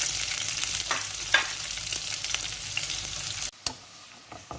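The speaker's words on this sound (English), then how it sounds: "you add all your stuff, fry it in a very low heat" Onions, garlic and green pepper frying over low heat in a wok, a dense close sizzle with occasional stirring clicks before it drops away abruptly near the end.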